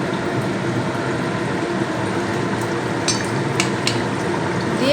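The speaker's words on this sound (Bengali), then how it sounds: "তেলটা গরম হয়ে গিয়েছে আমি একটা একটা করে কচুরি তেলের মধ্যে দিয়ে দেবো" Kachori fry in hot oil in a wok, a steady low bubbling sizzle throughout with a few faint utensil clinks, close and continuous.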